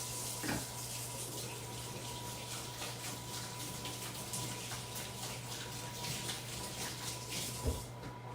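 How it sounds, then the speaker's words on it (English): Running water from a tap while hands are washed at a sink, a steady faint splashing stream with occasional soft knocks, heard alone without talk. "I'm just gonna wash my hands and I'll come back."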